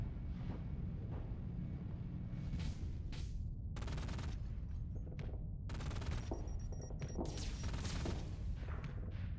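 Rapid bursts of ship weapons fire in the space combat game Starsector, dense overlapping volleys and booming impacts from a heavily armed warship, loud and continuous with sharp crackling salvos throughout.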